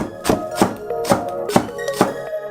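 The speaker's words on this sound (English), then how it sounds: "We take a small green onion, cut it into circles," Knife slicing a small green onion into rings on a cutting board beside a dish of crab meat, with six or seven crisp, evenly spaced chops sounding close and clear with no talking.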